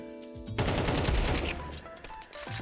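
A gunshot in Counter-Strike 2, a sharp loud blast near the start that trails off into a rattling decay and then faint clicks, close and with no voice over it.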